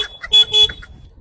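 A vehicle horn gives two short close honks in quick succession, with fainter tonal beeps around them.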